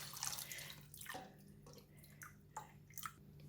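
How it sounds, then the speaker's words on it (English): Water pours into a pot holding eggs, a faint splashing and trickling with small drips and gurgles that rise and fall in short bursts. "I'm going to put in the water."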